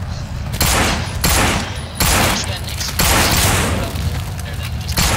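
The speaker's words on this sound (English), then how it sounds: "Joel, you have to shoot them, Joel" Rapid bursts of gunfire from No More Room In Hell, loud and close, with several dense volleys in quick succession and voices talking over the shooting.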